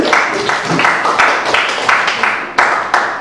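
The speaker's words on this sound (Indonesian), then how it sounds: "Kita kasih tepuk tangan yang luar biasa" A classroom of students claps together in a loud, steady rhythm, the group's hands striking in unison about three times a second, close and continuous.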